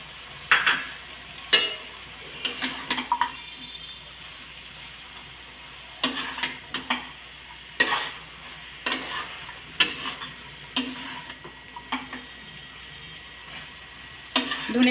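A spatula scrapes and stirs a vegetarian spinach curry with fried lentil dumplings and fresh coriander in a pan. The bursts come in an irregular rhythm over a faint sizzle, close by and with no talking.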